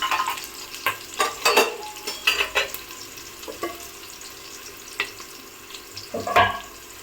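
Onions frying in a pan for fish curry, a soft sizzle punctuated by several sharper stirring scrapes and clinks, close and alone.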